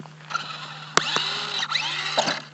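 A small electric RC car motor whines and revs up and down through a wheelie, loud and close, with a sharp knock and a few brief surges as the pitch climbs and falls.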